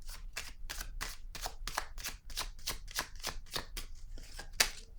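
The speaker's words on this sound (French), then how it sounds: "Je vais déposer une carte ici, par curiosité." Tarot cards are handled and laid down, a quick run of crisp, rhythmic card flicks and soft slaps close by, fairly quiet, with no talking.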